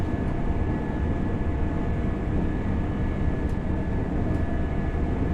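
A train passes by in a flyby view in the Train Sim World 6 game on the East Coast Main Line in a blizzard. It makes a loud, steady, broad rumbling roar that holds throughout with no talk.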